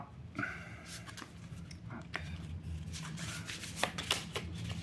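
Oracle cards being shuffled by hand at a tarot reading table, a soft continuous riffling and sliding of card stock with a few sharper flicks, close and steady throughout with no talk.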